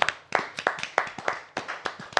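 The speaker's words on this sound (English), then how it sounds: "Please give me a round of applause." A small group claps in a brief round of applause after a podcast conversation, a few pairs of hands making irregular, close-sounding claps.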